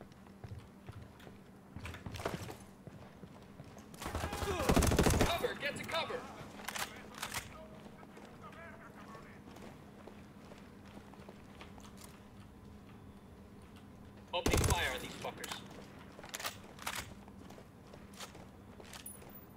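Gunfire from the tactical shooter game Ghost Recon Wildlands: two loud, roughly second-long bursts of shots stand apart, with scattered sharp clicks and ticks between them over a steady low in-game hum, and faint voices murmur in the background.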